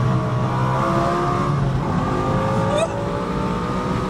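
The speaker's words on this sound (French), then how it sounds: "Là le compresseur il se déclenche." A supercharged BMW M5 V10 engine of 730 horsepower roars and revs steadily at close range, with a high supercharger whine rising briefly near the end.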